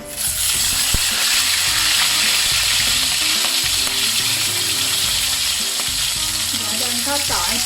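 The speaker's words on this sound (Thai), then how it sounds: "ต่อไปก็มาทอดปลาทูนะคะแดงใช้ปลาทู2 ตัว" Two mackerel fry in a pan of hot oil for a Thai dish, a loud, steady sizzle running without a break, with faint crackles and pops over it.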